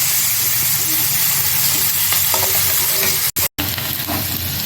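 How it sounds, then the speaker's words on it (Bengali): Chopped onions fry in hot oil, a loud, steady sizzle with occasional stirring scrapes filling the whole stretch and a brief gap near the end. "পেঁয়াজ কুচিগুলোকে একটু ভালো হালকা বাদামি কালারে ভেজে নেব"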